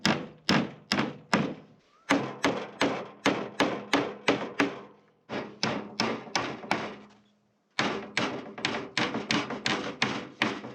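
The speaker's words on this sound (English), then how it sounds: "see if we can just re-hammer them by hand" Boards of LP SmartSide trim are hammered by hand in quick bursts of sharp, solid blows, several strikes per run, pausing briefly between runs, loud and close.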